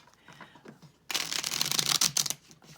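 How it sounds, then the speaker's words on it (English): A Thoth tarot deck of Higher Arcana cards riffled and shuffled by hand, a dense burst of crisp papery flutter lasting over a second, close and fairly loud after a quiet start. "so do a little shuffling here"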